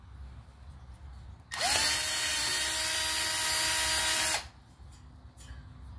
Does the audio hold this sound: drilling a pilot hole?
yes